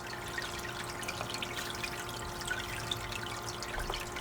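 Water poured over paydirt to wet it for gold panning, a steady close trickle and splash with light bubbling and dribbling that runs evenly throughout.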